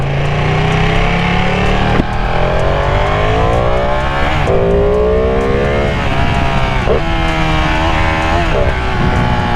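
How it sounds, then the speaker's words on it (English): A 2020 Ducati Panigale V2 engine revs hard and continuously, pitch climbing and dropping through repeated throttle blips and gear changes, loud and close. "So this bike sounds good."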